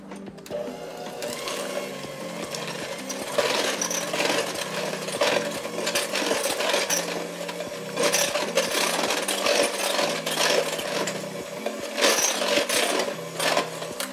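An electric mixer whirs steadily through a batter of milk mixture and flour, its motor pitch stepping up and down with rhythmic scraping and rattling, close and continuous.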